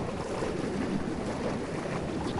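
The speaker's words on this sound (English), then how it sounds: "That water is really loud." Loud rushing water in the video game Just Cause 4, a dense, constant wash like surf or a fast stream, filling the moment evenly with no voices over it.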